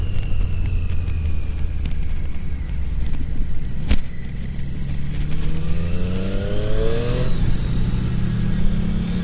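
A 2018 Triumph Street Triple RS motorcycle engine pulls hard under acceleration, a loud close rising growl with clear upward pitch sweeps through the gears over steady wind rush.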